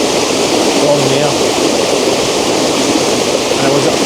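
Waterfall at Lower Campsie Falls, a steady broadband rush of falling water that stays loud and even throughout, with no voices.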